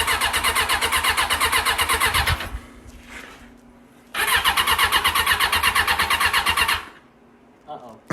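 A used, worn-out superbike engine cranks and roars to life, running loud and rough for about two seconds, cutting out, then firing again for several more seconds of loud revving before dying away.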